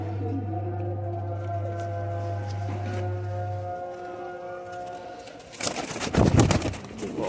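Young high-flyer pigeon chicks coo softly and close by over a steady low electrical hum, and a burst of loud rustling and flapping follows near the end.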